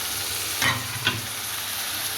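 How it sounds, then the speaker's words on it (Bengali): Spice paste with chicken sautéing in a pan over a village kitchen fire, a steady close sizzle with two brief stirring scrapes. "মশলাটা ভালো করে কষে নেব।"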